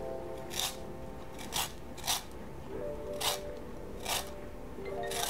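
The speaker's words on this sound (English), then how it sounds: "I'm also grating in a skin of 1 lime" Organic lime skin rubbed over a grater, six short, bright rasping strokes at uneven intervals, close and fairly quiet over a soft background hum.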